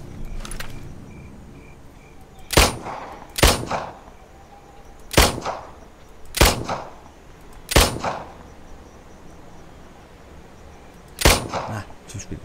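Pistol shots in the Nether video game, six sharp cracks spaced irregularly over several seconds, loud against a quiet background with no talk.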